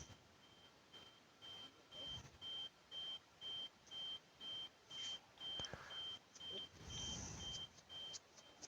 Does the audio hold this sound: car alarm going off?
yes